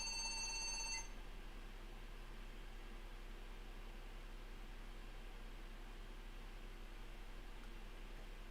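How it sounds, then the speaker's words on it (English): A Windows 98 PC running Doom emits a loud electronic beep lasting about a second, a shrill tonal alarm-like buzz, followed by steady quiet machine hum and fan hiss. "It shouldn't even beep like that because it's under Windows 98."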